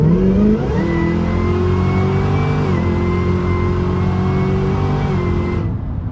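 Supercharger whine from a Cadillac Escalade-V rises steadily under hard acceleration, a loud, close, tonal howl layered over engine roar, with a brief shift-like dip midway before fading out.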